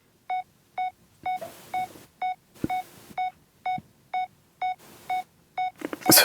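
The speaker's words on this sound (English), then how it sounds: "I layered that with an alarm" Electronic alarm beeps layered into a house music track, a regular string of short bright tonal pulses about twice a second, with soft noisy swells between some beeps and a louder noisy burst at the end.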